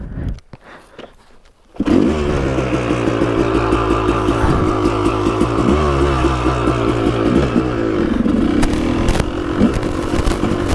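A 1998 Yamaha YZ250 two-stroke dirt bike engine kicks into life after some quiet clatter, then idles loudly and blips the throttle with a rapid, rattly burble that continues steadily up close.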